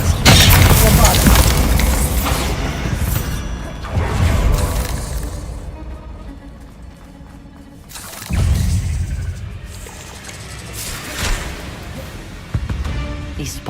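Bombarda spells explode in a Harry Potter video game: three heavy booms about four seconds apart, each ringing out into a rumbling tail, with game voices and battle noise around them.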